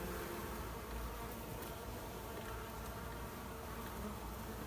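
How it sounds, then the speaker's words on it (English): Bees buzz around a hive after being smoked, a continuous dense droning hum filling the space, steady and unbroken with no talking. "you can see all the bees that I've been running back with smoke are piled up back there."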